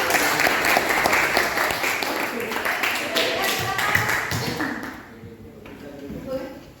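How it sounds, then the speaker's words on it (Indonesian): A classroom audience claps after a student group's presentation. The applause is close and dense at first, then thins and fades toward the end, with a few scattered claps. "aplaus untuk teman kita yang sudah presentasi"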